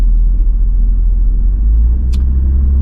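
A 25-year-old Toyota Aristo 2JZ engine idling to warm up after a misfire fix, a loud, steady, low rumble close by with a brief faint click partway through.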